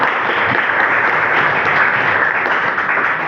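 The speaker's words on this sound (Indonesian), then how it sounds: "Oke, tepuk tangan untuk kalian" Vocational high school students in a physical education class break into applause, a loud, dense and continuous clapping that holds evenly for a few seconds with no voices on top.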